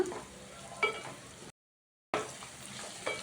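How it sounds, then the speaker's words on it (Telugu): Onions and bitter gourd fry on a high flame, a close sizzling hiss broken by a couple of utensil scrapes and knocks, cut by a brief silent gap midway, no voices. "కొంచెం హై ఫ్లేమ్లో పెట్టి ఆనియన్స్ వేయించుకున్నామండి"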